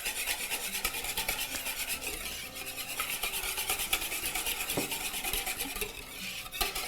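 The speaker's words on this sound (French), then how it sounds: "Donc, je mélange." Dry ingredients stirred in a bowl for a pomegranate recipe, a steady, close scraping and rasping of a utensil against the dish with occasional sharper clinks, continuous and alone without talk.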